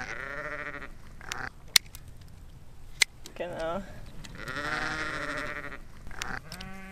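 A sheep bleats several times, close and clear, from an animal being held still by its legs in a fenced pasture, with pauses between calls and a person talking quietly in German in between.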